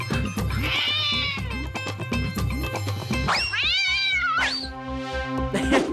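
A cartoon cat in a children's moral story meows loudly and repeatedly, with drawn-out, wavering cries and a few shorter yowls close up, over a light backing.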